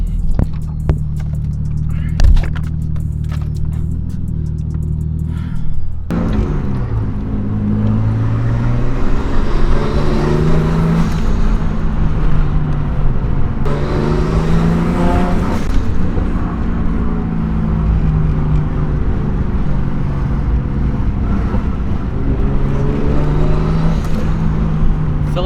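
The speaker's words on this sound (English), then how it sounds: "gonna take it for a spin and see how the car drives" Nissan S13 fitted with an RB engine drives along, its engine hum loud and continuous from inside the car, starting with a rough idle before pulling away with rising and falling engine tones.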